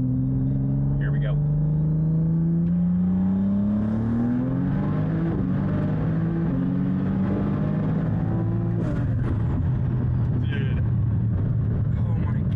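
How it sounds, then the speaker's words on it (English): A 1500-horsepower BMW M3 revs and accelerates, its engine and exhaust climbing steadily in pitch, then rising again in a second pull, loud and close with raw intake roar under excited voices. "This is the greatest sounding car ever. Just raw power, just intakes."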